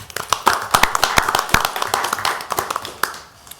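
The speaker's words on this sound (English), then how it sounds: "I think that we all deserve to give them a round of applause" A small audience at a Salisbury City Council legislative session claps in a short, uneven round of sharp, close hand claps that thins out and stops after a few seconds.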